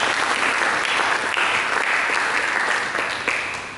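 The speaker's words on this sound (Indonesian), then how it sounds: "Mari berikan tepuk tangan yang meriah." A church congregation bursts into warm, dense applause, a loud, even wash of many hands clapping together that holds steady and then starts to fade toward the end, with no talking over it.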